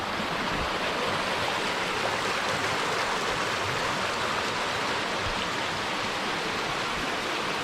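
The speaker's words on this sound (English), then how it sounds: "You got waterfalls coming into the street." Waterfalls and a stream pour through the forested Ketchum Run Gorge in Loyalsock State Forest, giving a steady, close, full-bodied rush of water with no talking.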